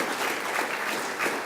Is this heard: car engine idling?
no